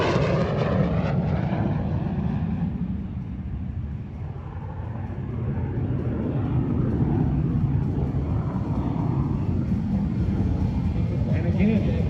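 A Russian jet flies at an air show, its engine roaring loudly and steadily from start to finish, with people talking underneath.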